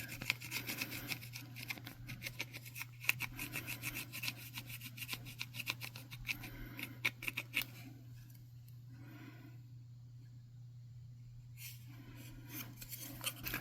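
A hand-carved wooden spoon is burnished, giving quiet, close rubbing and scraping strokes in a quick, irregular rhythm that pause near the end and resume briefly, with no talk.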